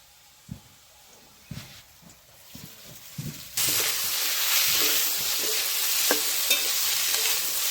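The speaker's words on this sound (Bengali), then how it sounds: "একদম লাল লাল করে ভেজে নিব" Rice and fish head for murighonto being fried and stirred in a pan: a few soft scraping stirs, then a sudden loud, steady sizzle with intermittent clinks of the spatula.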